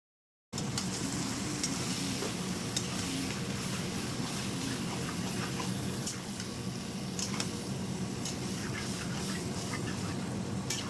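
Marinated mutton frying in oil, a loud dense continuous sizzle starting abruptly and holding steady throughout, with faint scraping stirs over it.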